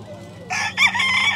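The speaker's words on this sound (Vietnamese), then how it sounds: "quá trời gà hôm nay bán gà đá luôn lần đầu tiên mình mới thấy luôn" A fighting rooster for sale at an open-air flea market in the United States crows loudly and close, with clucking around it and faint crowd noise behind.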